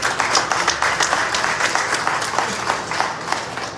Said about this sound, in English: a round of applause I think for John Ryder for that performance tonight